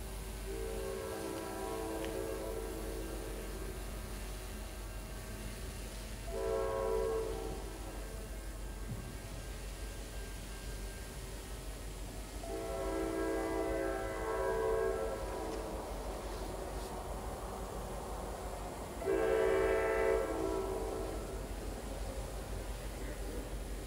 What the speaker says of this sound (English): Train 1132 coming in first and H70.